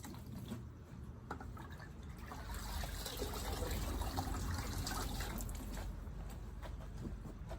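Water trickles and gushes from wet newspaper into the reservoir of a worm bin bucket, a soft continuous splashing that swells in the middle and then eases, close and faint.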